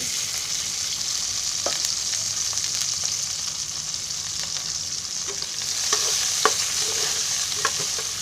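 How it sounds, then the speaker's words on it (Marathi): Chicken gravy mixture sizzling in hot oil tempering for chicken korma, a steady close frying hiss with occasional sharp pops and spatula stirs, no talking. "ते आता मी फोडणीला देते. म्हणजे आता चिकन शिजवायचं आहे ना"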